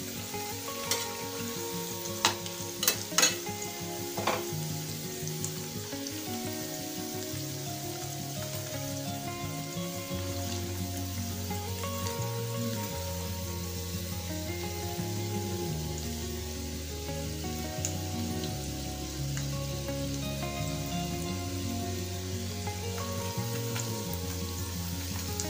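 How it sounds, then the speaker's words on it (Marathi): Sabudana vadas deep-fry in hot oil with a steady, dense sizzle and fine crackle that runs without pause, close and fairly quiet, with a few brief clinks of a utensil near the start and no talking. "थोड्या थोड्या वेळाने हे वडे आपल्याला परतून घ्यायचे आहेत, कारण सर्व बाजूंनी हे वडे तळले गेले पाहिजेत"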